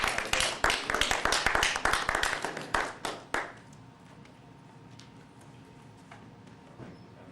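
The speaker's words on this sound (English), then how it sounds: "I want to just give a round of applause for Mr. Amanifu Williams" Audience applause at a commemorative event for the Montgomery bus boycott, a loud burst of clapping for about three seconds that quickly fades out, leaving a quiet room with faint background noise.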